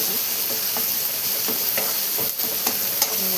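Chicken being stirred with onion masala in a hot pan, a steady sizzle with light scraping strokes of a spoon running through it, close and fairly loud, no voices.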